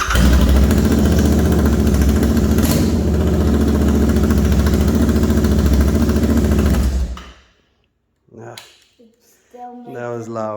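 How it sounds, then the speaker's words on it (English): A Royal Enfield Interceptor motorcycle runs with its mufflers removed, a loud, raw open-exhaust roar for about seven seconds before cutting off abruptly, followed by someone speaking. "I'm gonna start it just for the heck of it without the mufflers and see how loud that is."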